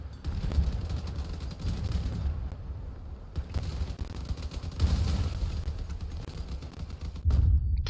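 Repeated heavy booms of cannon fire in the game Crossout, with rumbling low impacts and crackling bursts, dense and continuous like a battle.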